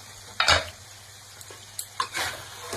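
Chicken sautéing in a pan on a home stove, with a soft steady sizzle broken by a few sharp scrapes and clinks of a spoon stirring, close and clear with no talking.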